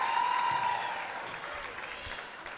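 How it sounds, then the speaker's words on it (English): Applause from a crowd at a girls' high school basketball game after a made free throw, steady clapping that gradually thins out, with a sustained tone sounding briefly at the start. "So there's a lot of claps from the crowd."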